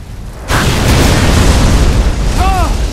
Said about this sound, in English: Those tanks are gonna blow!